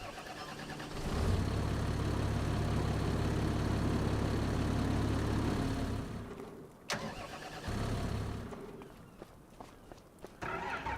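A tractor engine in the video game Farming Simulator 25 rumbles at a steady, loud idle for several seconds, then cuts off and briefly comes back amid footsteps and clicks.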